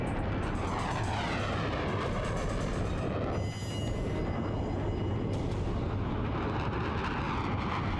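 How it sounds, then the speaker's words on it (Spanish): A China Airlines Boeing 737 jet airliner diving out of control, heard as a loud, continuous roar of rushing air and straining engines with a high whine rising and falling, filling the whole stretch with no voices. "El avión de China Airlines está cayendo del cielo."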